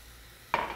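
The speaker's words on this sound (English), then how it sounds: "Stir that to blend it, and then I'm going to add some red wine." Red wine hits a hot pan of spices (bay leaf, cinnamon stick, oregano, cloves) for chicken moussaka. After a quiet moment comes a sudden loud sizzling hiss that holds steady to the end.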